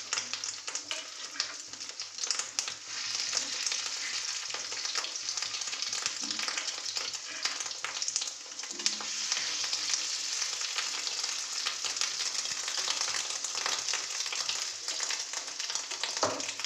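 Fish roe fritters bound with gram flour and egg fry in hot oil, giving a continuous close crackling sizzle with occasional stirring clatter and no one speaking.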